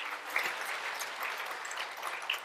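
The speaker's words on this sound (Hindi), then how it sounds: "ताली तो हल्की बज रही है, तो कैसे पता लगेगा?" Light, thin applause comes from a seated audience at a lecture on evidence-based natural drug development, scattered hand claps pattering evenly for a few seconds without speech.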